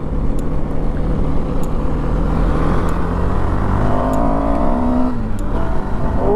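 A KTM Duke motorcycle engine, freshly serviced with a new chain set, revs loudly and close by, holding a steady high drone with rising pitch sweeps near the end.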